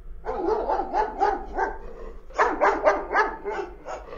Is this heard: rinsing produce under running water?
no